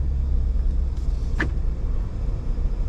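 A 2021 Ford F-150 Tremor pickup setting off, a low steady engine and road rumble heard from inside the cab, with a brief higher whine partway through.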